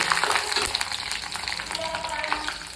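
Dried and green chillies with chana dal, curry leaves and chopped ginger sautéing in hot oil, a dense continuous crackling sizzle with a few stirring knocks, close and fairly loud, with no talk.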